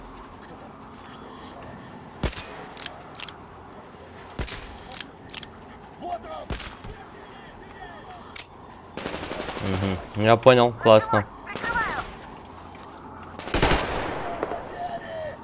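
Gunfire in the video game Metro: Exodus, with a Kalashnikov rifle and a silenced pistol: scattered single shots early, then louder bursts of rapid fire in the middle and a final loud burst, with someone talking briefly in between.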